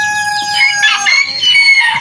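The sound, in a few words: Brahma chicken, the farm's oldest hen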